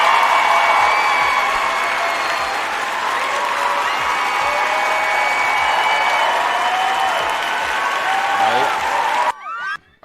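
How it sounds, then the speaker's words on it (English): Loud, steady applause from a crowd fills almost the whole stretch, dense and unbroken, with voices mixed in, before cutting off abruptly near the end. "Round of applause."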